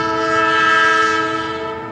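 A train sounds its horn in one loud, steady, sustained chord-like blast heard close up, holding for about two seconds before it starts to fade slightly.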